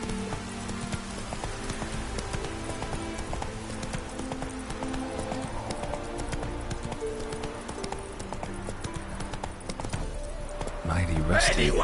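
A horse galloping in The Witcher 3 video game, rapid rhythmic hoof clip-clops over a steady bed of game ambience and faint rain-like patter, continuous and close, growing louder near the end.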